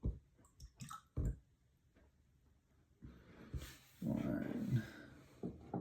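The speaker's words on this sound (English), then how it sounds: "Let me get these at least poured." Tequila is poured into shot glasses, giving a few soft clinks and glugs followed by a longer liquid pour, close and quiet in an otherwise still room.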